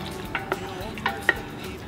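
A wooden spoon stirs bolognese in a cast-iron potjie, giving a few soft scraping knocks spread over a couple of seconds against a faint background hiss, close and fairly quiet.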